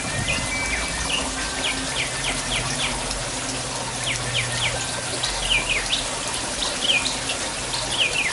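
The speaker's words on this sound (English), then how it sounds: "See how that water's draining down?" Water drains steadily down through a bell siphon in a backyard aquaponics system. It makes a continuous close rushing trickle, with birds chirping clearly in the background throughout.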